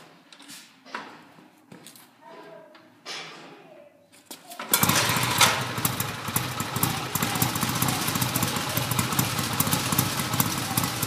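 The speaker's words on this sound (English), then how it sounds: "If I can start this bike by hand, you should be able to start it with your foot." A motorcycle is kicked over by foot and fires into a loud, steady running rumble, preceded by several scuffs and clanks of the kick attempts.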